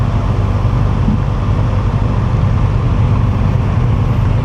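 A 2019 Kawasaki ZX-6R with a Akrapovič exhaust, a continuous loud engine drone with low rumble holding steady throughout, no talk.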